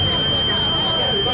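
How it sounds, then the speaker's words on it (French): An Arduino obstacle-detector buzzer holds a thin, steady high electronic tone throughout, set against a noisy room with background voices. "If you go beside an obstacle, the buzzer will make noise"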